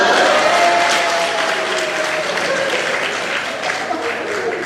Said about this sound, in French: avec les applaudissements